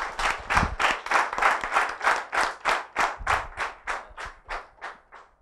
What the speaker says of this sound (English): We should have a round of applause for everybody.